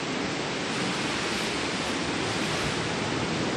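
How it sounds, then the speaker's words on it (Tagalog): Steady broadband wind rushes near a house at dawn, an even, continuous hiss like distant surf, fairly faint and without talk. "Ang hangin."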